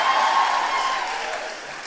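A live comedy podcast audience breaks into broad applause, a dense, even wash of clapping that eases off slightly toward the end.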